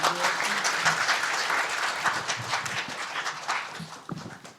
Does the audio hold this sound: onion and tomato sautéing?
no